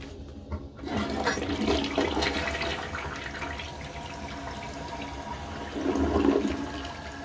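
A toilet flushes after being cleaned with Lysol Lime & Rust toilet cleaner: a loud, steady rush of water with a gurgling swirl that swells again near the end, heard alone with no talking.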